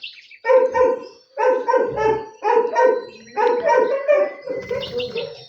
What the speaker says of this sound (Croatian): Vidite sad kako interesovanje ima za lajanje.